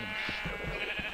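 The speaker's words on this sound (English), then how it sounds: "Ooh! A pink sheep!" A sheep in the Minecraft video game bleats with a wavering, nasal call lasting about a second, fairly loud and close, with no talking over it.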